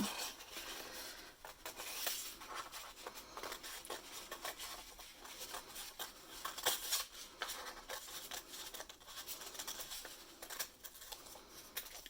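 Repeated snips of scissors cutting paper for a rainbow line craft, a steady patter of small close cuts running throughout with no talking.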